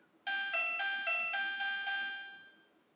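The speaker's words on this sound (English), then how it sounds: "get a little musical tune as you get down there with it." A short chiming electronic tune from the Intellivision game The Electric Company Math Fun, about eight bright notes in a steady rhythm, ringing clearly on its own and fading out at the end.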